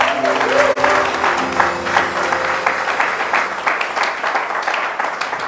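A church congregation applauds and cheers to acclaim the Lord after a pastor's sermon, producing a sustained wash of clapping and crowd voices at steady volume, with a sharp clap near the start.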